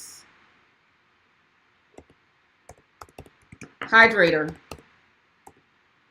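Sparse, light clicks of a computer keyboard being typed on in a quiet room, scattered taps in small bursts, then someone briefly speaks over the keys.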